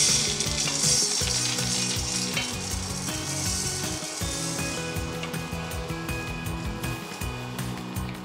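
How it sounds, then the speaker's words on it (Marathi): Urad dal, green moong and coriander seeds dry-roasting in a kadhai over medium heat, with a steady grainy rustle and scraping as they are stirred, punctuated by a continuous low background hum throughout. "मीडियम हीटवर एकसारखी अशी ढवळत भाजायची."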